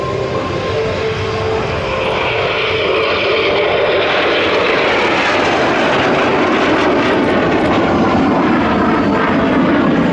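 A loud F-86 Sabre jet roars past at an air show in Paris, a steady broadband rush of engine noise that swells and shifts in pitch as the aircraft passes, continuous throughout with no talk.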